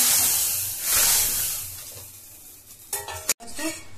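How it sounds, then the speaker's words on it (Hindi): Tempering (tadka) sizzles and hisses as it goes into a pot of lentils, steady frying crackle with some stirring and clattering toward the end, no talking. "दाल में हमारा बढ़िया सा तड़का लग गया"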